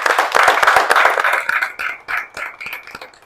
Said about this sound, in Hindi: बहुत जोरदार तालियां हो जाएंगी